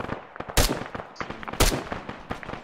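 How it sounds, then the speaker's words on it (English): Rapid gunfire in Arma 3 rings out as bursts of sharp cracks, with two heavier loud blasts among quicker shots, close and punchy with no talking. "Man, I missed all those shots."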